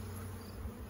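Honey bees buzzing around a backyard hive in a large, productive colony, a steady close droning hum with no break and no voices.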